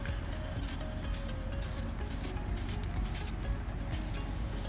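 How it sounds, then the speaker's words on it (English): Spray paint hisses from an aerosol can in short repeated bursts over a low background rumble, each spurt close and sharp, as colors are layered onto a painted planet. "spray the black down for your shade"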